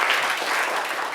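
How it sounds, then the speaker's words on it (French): Studio audience applauding on a television talk show, a dense, steady clatter of clapping hands that fills the whole moment without voices. "Applaudissez pour elles, elles sont trop belles."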